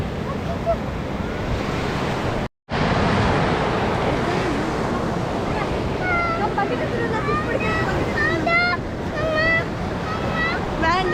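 Sea waves break and wash on a beach in Chennai in the morning, with a continuous roar and wind buffeting the microphone, while people talk and children's voices chirp over the surf.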